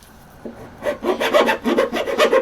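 Deburring tool scraping around the inside of a cut metal tube on a drift bar mod for a Crazy Cart, a run of short, rhythmic rasping strokes close by after a brief quiet start.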